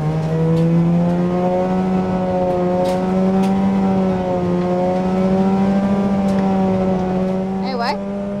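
Onboard an RX8 Cup race car, number 80, its rotary engine holds a loud, steady high-pitched drone with slight rises and dips in pitch throughout, and a brief squeal near the end.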